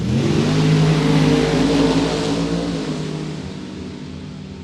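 Drag racing cars, a Pontiac Grand Am and a Camaro, race down the strip at a World Super Pro Challenge event, their loud, roaring engines sustained then slowly fading into the distance.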